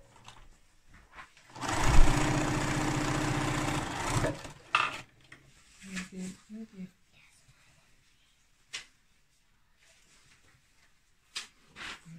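A sewing machine stitches a hem on a drawstring scrub wash bag in one close, continuous run of about three seconds, followed by quiet with brief soft voices.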